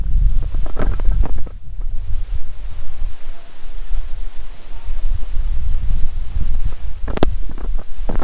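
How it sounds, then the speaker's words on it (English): Wind buffets the microphone outdoors on a cloudy, breezy day at a house construction site in the Philippines, loud gusty rumbles rising and falling throughout, with a few sharp knocks. "The weather is cloudy. It's breezy here."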